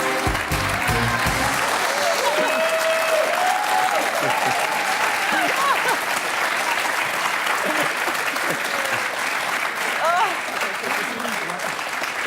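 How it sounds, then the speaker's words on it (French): Studio audience at a French television show bursts into loud, dense applause for Monsieur Chang, clapping and cheering continuously for over twelve seconds with a few raised voices mixed in. "applaudissements"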